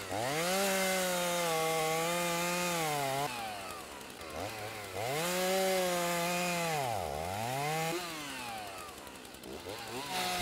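Chainsaw carving wood inside a VR carving simulator game: a loud, continuous revving engine drone that rises and falls in pitch, dipping briefly between passes, with no talking.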